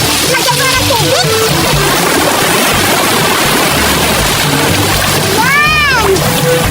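Sea water splashing and sloshing as a container is filled at the shore, a loud, continuous churning wash with a few brief high squeaky sounds mixed in.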